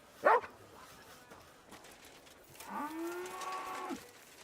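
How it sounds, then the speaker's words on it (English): Dog barking in the medieval video game Kingdom Come 2: a sharp bark near the start, then a longer, rising moan-like howl later, heard alone against quiet ambience. "Call off that dog."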